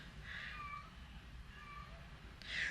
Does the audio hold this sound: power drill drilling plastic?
no